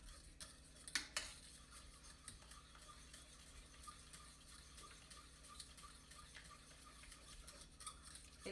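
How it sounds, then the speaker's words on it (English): A spoon stirs thickening homemade chocolate pie filling in a pot, giving soft, steady scraping and faint ticking against the metal. A brief louder clatter comes near the start, and no one speaks. "You just got to keep stirring."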